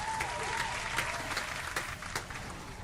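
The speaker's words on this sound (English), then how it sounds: "Can we clap it up one more time for the teams?" Crowd applause for raid teams after a City of Heroes Incarnate Trials raid night, a steady wash of many hands clapping that holds at an even level for about three seconds, with faint voices mixed in.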